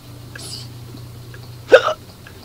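A person hiccups during a Resident Evil Code Veronica PS2 gaming session; a faint short hiccup comes early, then a sharper, louder one near the end, over a steady low hum with no talk.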